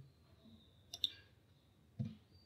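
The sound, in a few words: typing a letter on a computer keyboard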